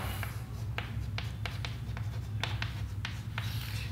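Chalk or marker strokes on a classroom board as an equation is written, a steady series of short scratchy taps and squeaks close by over a low constant hum, with no talking.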